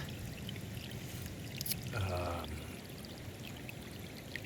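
Storm water seeping and flowing straight out of the ground in winter, a steady running trickle with a brief, fuller gush of pouring water partway through.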